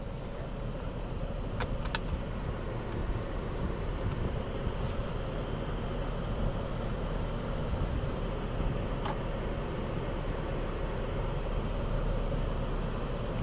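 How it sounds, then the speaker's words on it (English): A 2026 Genesis G90 3.5T e-SC driving on the road, with steady muffled cabin road and engine noise, a constant even drone and a couple of faint clicks, no talking. "Let's get this Genesis out on the road and see how it drives."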